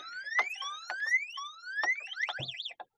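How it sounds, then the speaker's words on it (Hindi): An electric cargo scooter's anti-theft alarm, a DEXPRESS Mettle, wails in repeated rising sweeps as the wheel locks, then switches to a fast warbling pattern, loud and close, ending abruptly. "अलार्म तो बज ही रहा है और साथ में व्हील भी लॉक हो रहा है"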